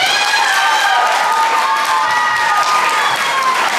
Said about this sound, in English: Let's give a big round of applause to the platinum and gold sponsorships.